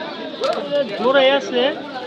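Soft cooing of Giribaz pigeons in short bursts, close by, with a few rising and falling warbling calls and some voices in the background at a pigeon market in Bangladesh.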